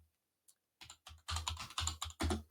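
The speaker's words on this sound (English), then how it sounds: "forgive me as I start typing with two thumbs and my tongue sticking out" Two-thumb typing on a keyboard for an AI upskilling task, heard as a dense run of quick clustered taps after a short quiet start, close and fairly loud with no talking.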